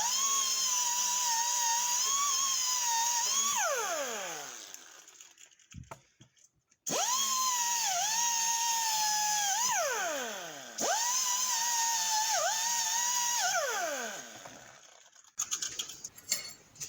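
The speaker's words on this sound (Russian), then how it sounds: "У меня есть вот такая вот бормашинка на пневмоприводе со щеткой." Pneumatic die grinder fitted with a wire brush cleaning car suspension parts: a high whine that repeatedly spins up, holds steady and winds down, with short pauses and clattering handling noises in between.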